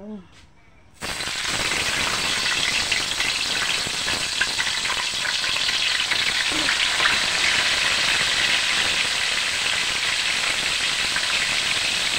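Fish dropped into hot oil for sinigang bursts into loud, continuous sizzling after a brief quiet moment, the crackling frying staying steady with occasional stirring rattles.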